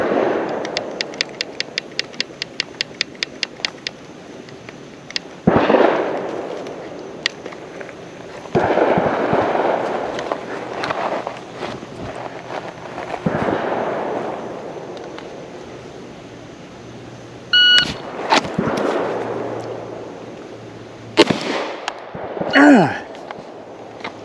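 Gunshots ring out at shooting challenge targets, several sharp, loud reports spaced irregularly, some with a lingering ring and others followed by low rumbling handling noise, plus a brief rapid ticking at the start.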